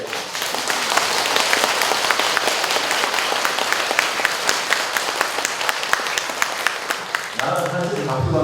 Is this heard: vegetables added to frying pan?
no